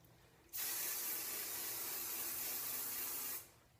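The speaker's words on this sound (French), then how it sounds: "Mettez le spray net juste en dessous aussi." Spray Net hairspray is sprayed onto hair in one sustained hissing burst of about three seconds, close and loud, starting and stopping abruptly against near silence.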